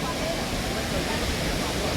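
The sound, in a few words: river flowing nearby on the way to Taptkund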